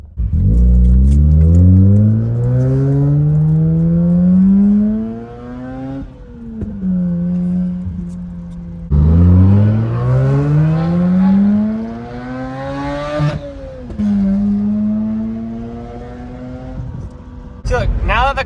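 A Subaru WRX bugeye turbo engine revs in long rising sweeps during a hot start check, loud and close, with pauses back to idle between pulls and a voice talking over parts of it.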